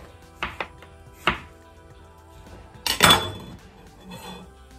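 Zucchini chopped with a knife on a board for a summer broth: a few sharp close knocks, then a heavier clattering burst of cuts, with quiet pauses between.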